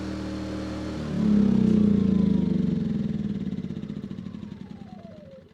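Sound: petrol power generator engine running

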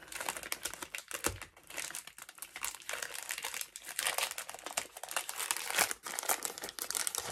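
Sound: crinkling brown paper bag being handled

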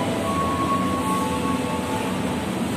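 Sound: airport train passing at Sudirman station

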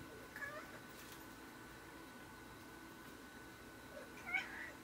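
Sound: cat meowing

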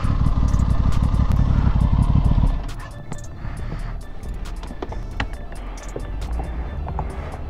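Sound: Aprilia RS660 motorcycle engine on the throttle

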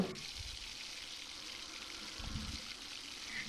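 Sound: potol curry with yogurt and spices simmering in pan

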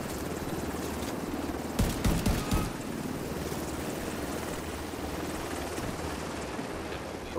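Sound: helicopter in a video game

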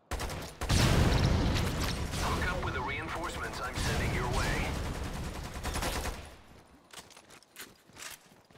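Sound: gunfire shooting at explosives in video game Lost Planet 2

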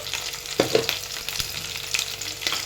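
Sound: onions and chopped green chillies frying in a pan

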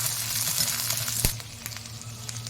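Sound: sizzling of ingredients roasting in oil, with peanuts added

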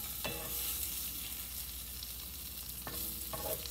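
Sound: pork frying in a pan

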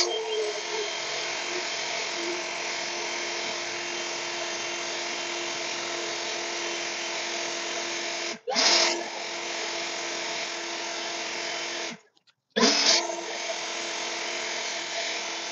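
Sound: EGO 765 CFM cordless leaf blower blowing gravel

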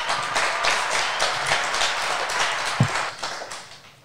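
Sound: audience applause for a student's school radio presentation

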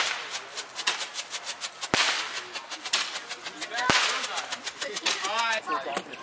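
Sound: fireworks popping on the 4th of July

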